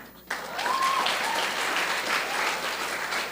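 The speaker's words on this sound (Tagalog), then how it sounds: "Kung pumalakpak mo kayo, sabay-sabay." A church congregation at a Sunday service claps together in a sustained burst of applause that fills the room, starting abruptly after a brief quiet moment and continuing steadily to the end.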